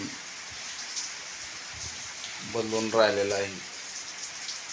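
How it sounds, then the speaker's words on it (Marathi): Summer rain falls in a steady, soft hiss that continues evenly throughout, with a person speaking briefly over it partway through. "आता उन्हाळ्यात पाऊस पडू राहिला"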